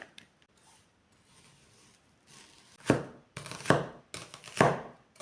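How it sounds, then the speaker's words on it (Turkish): A knife chops onion and garlic on a cutting board in a few quick bursts of sharp, close taps after a quiet start. "Soğanı ve sarımsakları doğrayacağım."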